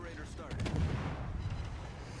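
Ship guns fire in World of Warships from the Kitakaze destroyer, a single deep booming salvo with a rumbling tail that decays over about two seconds, fairly close.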